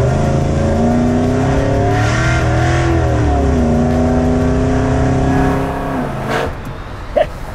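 A blacked-out 1955 Chevy ProTouring build with about 1000 horsepower accelerates hard, its loud engine note climbing steadily through the gears with quick shift breaks, then easing off near the end.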